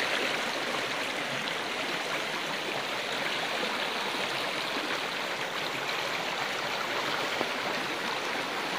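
The flooded Teesta river near Siliguri rushes fast in a steady, dense roar of water, unbroken and close, with no voices.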